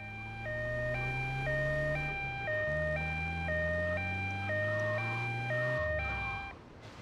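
Two-tone wailing ambulance siren in GTA Vice City Stories on PS2, alternating steadily high and low, loud and close over a low engine drone, with no voices.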